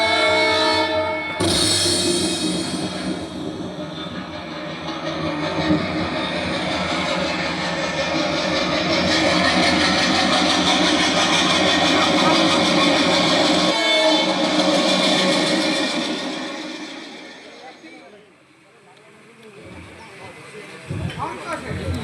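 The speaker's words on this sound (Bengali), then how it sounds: "ওই যে দূরে ট্রেন আসছে" A train stage sound effect for an outdoor jatra folk-theatre performance: a sustained rumbling roll with long horn blasts, holding steady before dipping and fading near the end.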